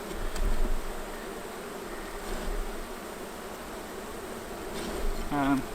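Steady droning buzz of many honey bees swarming close around a hive during spring beekeeping, a continuous insect hum with a brief faint tonal beep near the end.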